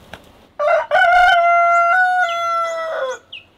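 A blue Australorp rooster crows loudly and close by, one long drawn-out call with a sharp start and a wavering tail, followed by a brief faint chirp.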